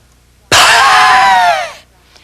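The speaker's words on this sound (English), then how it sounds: "the exhale is going to be a diaphragmatic exhalation" A single strong, breathy exhale pushed out through pressed lips, lasting over a second with a buzzing, slightly wheezy edge, then silence.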